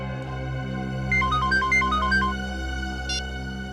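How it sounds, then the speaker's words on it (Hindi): A short electronic ringtone melody plays over a low steady hum, a quick run of bright beeping notes, followed by a brief tone a moment later. "एसीपी सर का फोन था।"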